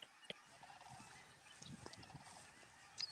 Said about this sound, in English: I don't know if you can hear the sandhill cranes behind me.